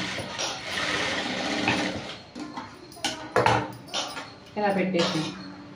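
A sewing machine runs in short stitching bursts on blouse fabric in a tailoring class, whirring and clicking while someone talks over it, with a few small handling clinks and pauses.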